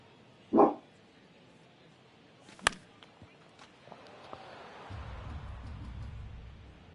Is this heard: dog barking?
yes